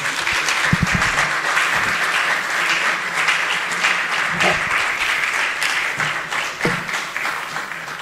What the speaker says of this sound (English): And keep clapping for him.